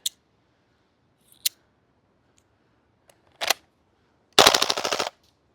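Krytac KRISS Vector gas blowback airsoft SMG: a few sharp single clicks and pops, then a short full-auto burst of rapid snapping shots lasting under a second, close and loud, no voices.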